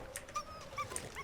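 A dog in the video game The Long Dark yelps and whimpers in short, high, faint cries over a soft background hum.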